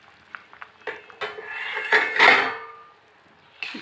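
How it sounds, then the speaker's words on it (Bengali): A cooking pot lid rattles and clanks as it is lifted off a pot of taro and hilsa fish, with a brief metallic ring and a few small clicks around it. "ঢাকাটা উঠিয়ে নিচ্ছি একবার"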